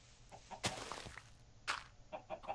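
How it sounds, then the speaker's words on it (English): Chickens clucking in the Minecraft video game, a few short game-sound clucks scattered across a quiet background, each brief and fairly close, with no talking. "we've got plenty of chickens now"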